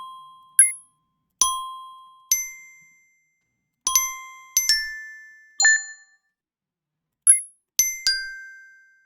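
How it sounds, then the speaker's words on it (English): A series of bright, bell-like chime dings, about ten separate strikes at uneven intervals, each ringing briefly and fading, clear and close with no talking. "Chime bell ding."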